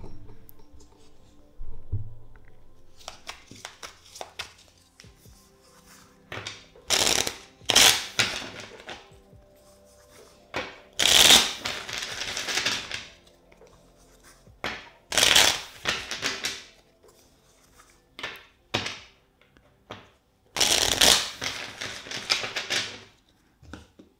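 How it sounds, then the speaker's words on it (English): Tarot deck being shuffled by hand, a series of crisp riffling bursts separated by pauses, close and fairly loud, with quiet card handling between shuffles and no talking. "Let's shuffle the deck four times for you."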